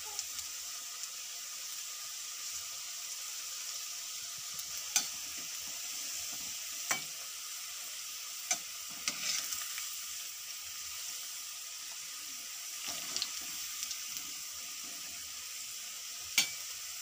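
Onion pakoda fry in hot oil with a quiet, steady sizzle and bubbling. Occasional faint clicks and stirring knocks sound against the pan.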